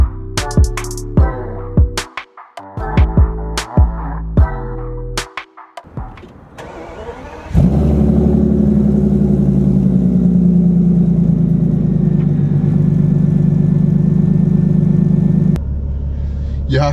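A Bentley Continental GT with a 6-litre twin-turbocharged W12 starts up on a cold winter morning: a few short cranking bursts, then the engine catches with a loud roar and settles into a steady, deep idle close by.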